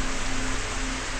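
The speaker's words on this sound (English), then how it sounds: "In the rain." Rain in an RPG Maker MV game, a short steady hiss of falling rain, dense and even with a faint low hum beneath, no voices.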